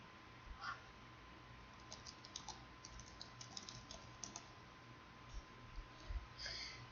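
Keys on a computer keyboard are typed into a terminal, quiet irregular clicks in short bursts over a faint steady hum, with no voices.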